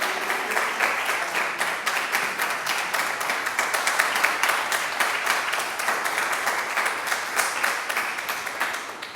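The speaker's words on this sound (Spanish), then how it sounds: "Pues nada, un aplauso a Joaquín" An audience at a talk on reflections about old age applauds a speaker with dense, continuous clapping. The clapping holds at an even, fairly loud level throughout with a quick, ragged rhythm and no speech over it.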